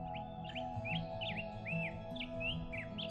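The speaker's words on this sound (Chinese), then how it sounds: "鸟儿们从温暖的羽毛中苏醒，用柔和的鸣唱交流着清晨的喜悦" Several birds chirp and tweet in short, bright, rising and falling notes at dawn beside Nianhu Lake, repeating every half second or so over a low steady hum, fairly faint.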